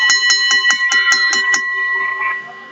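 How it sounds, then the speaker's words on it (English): A wrestling ring bell is struck rapidly about eight times in a quick, even ringing run, loud and close, with the last tones lingering and fading as crowd noise continues underneath. "Bell being sounded once again to break these two up"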